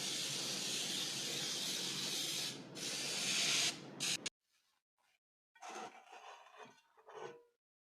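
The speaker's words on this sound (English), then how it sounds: "right now I'm about to spray my pan." Cooking spray hissing onto a cake pan for a chocolate cake, a long, close, steady spray burst in a couple of pulses, then a stop followed by a few soft scrapes and taps.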